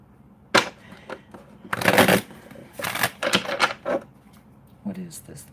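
Tarot card shuffling close up, a few quick riffling bursts separated by short pauses, with soft handling noises between them.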